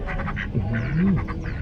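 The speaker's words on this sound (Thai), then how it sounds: "ดูเหมือนจะเสียงเป็ดนะ เป็ดหรือนก โอ้เป็ดครับเป็ดครับ" A duck quacks once in a long, low, wavering call near a Chinese memorial temple grounds with pine and sakura trees, heard clearly over a steady outdoor background hum.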